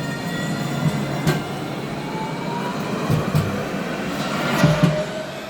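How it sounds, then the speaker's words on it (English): A tram in Nottingham rolls past with a steady low rumble and rattle, a few clunks over the rails and a faint high squeal, loud and close with no talking. "here we got another tram here"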